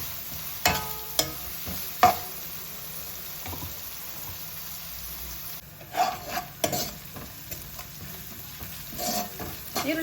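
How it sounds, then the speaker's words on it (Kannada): Onions fry in oil for a chicken curry and are stirred in the pan. A soft, constant sizzle runs under sharp scraping and clattering strokes of a spoon, louder bursts coming in clusters, with no one speaking. "ಈರುಳ್ಳಿ ಚೆನ್ನಾಗಿ ಎಣ್ಣೆಲಿ ರೋಸ್ಟ್ ಆಗಿದೆ"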